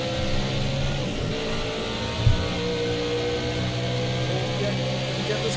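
Race car engine in a racing video game, a steady droning hum held at constant pitch throughout with a brief bump near the middle, running under a speaking voice.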